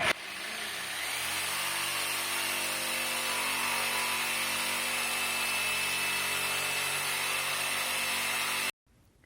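A jigsaw buzzes steadily through a wooden batten for several seconds, loud and close with a constant high whine, then cuts off abruptly near the end.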